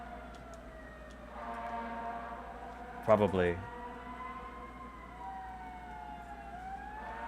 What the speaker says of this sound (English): Those sirens are loud.